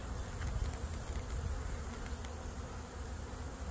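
Honeybees buzzing steadily at an open hive as new queens emerge, a dense, continuous hum close by with no talk.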